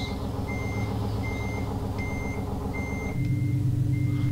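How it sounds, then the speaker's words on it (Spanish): A Dina bus engine idles in Euro Truck Simulator 2 with a steady low hum. Evenly spaced electronic beeps repeat over it, and the engine note shifts slightly near the end. "Ya prendimos el autobús."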